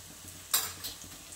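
Garlic fenugreek sizzles in a pan as ground spices, homemade garam masala, turmeric and cumin powder, are stirred in, with a sharp scrape near the middle and soft frying hiss throughout.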